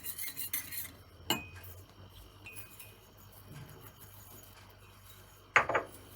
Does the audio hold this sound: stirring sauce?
yes